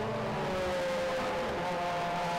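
Mazda MX-5 race cars racing at Cadwell Park, a steady blended engine drone from several cars held at a distance, without talk.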